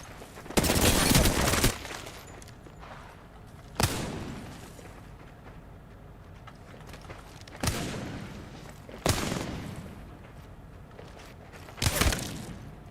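Gunfire in a competitive shooter video game: five separate bursts of shots, a long loud volley first, then shorter bursts spaced a few seconds apart over quiet in-game ambience.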